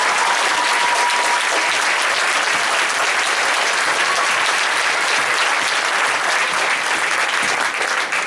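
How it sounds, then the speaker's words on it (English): A large concert audience gives sustained, dense applause in honour of the school's teachers, loud and steady throughout with no talking over it. "give me a big round of applause for Castillero teachers"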